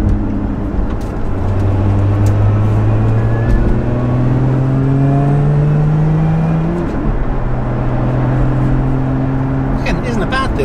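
Inside a moving Lotus Emira fitted with a sports exhaust, a supercharger whines over a steady engine drone, with rising and falling tones as the car accelerates. Someone talks over the sound.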